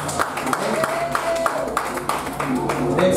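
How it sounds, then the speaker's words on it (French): A church congregation claps in a loose scattered patter, modest and fairly close, under a speaking voice. "On acclame la parole de Dieu."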